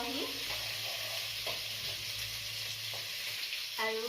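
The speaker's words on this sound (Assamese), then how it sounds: "পিঁয়াজ দিলোঁ, এইখিনি অকণমান ফ্ৰাই কৰি লওঁহি।" Onions fry in a pan for a home-style fish curry, giving a continuous close sizzle with a few soft scraping stirs, and faint talk comes in near the end.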